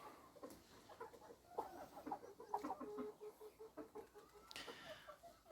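Chickens and roosters cluck and murmur close by in a steady, uneven chatter, with one brief louder squawk near the end.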